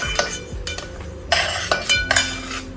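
Barnyard millet roasting dry in a pan, stirred with a metal spoon, gives intermittent scraping sweeps and clinks against the pan in short bursts, close and fairly loud.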